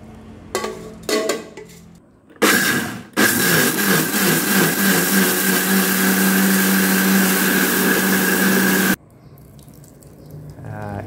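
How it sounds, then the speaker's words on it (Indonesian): Kitchen blender grinding soaked nasi dagang rice, a loud steady whirring roar running about six seconds after a few short starting bursts, then cutting off abruptly. "Ulang cara tadi sehingga selesai kita blender semua beras nasi dagang ni."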